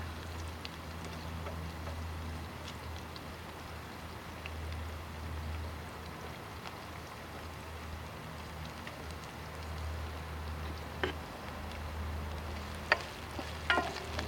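Food sautéing in a fry pan over a small twig-fueled Stoveaway stove outdoors, a steady soft crackling sizzle with low rumble throughout and a few sharper clicks and pops near the end.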